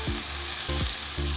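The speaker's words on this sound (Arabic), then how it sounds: "الفلفلايه كمان شوحها شويه مع البصله كده" Bell pepper and onion sautéing in a pan, a steady sizzle broken by three short bursts of stirring or scraping, close and moderately loud with no talk.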